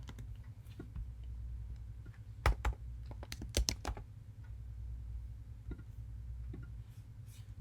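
Sparse keyboard keystrokes and mouse-like clicks while designing planner stickers on a computer, a few isolated taps early, then a quick cluster of close clicks near the middle over a low steady room hum.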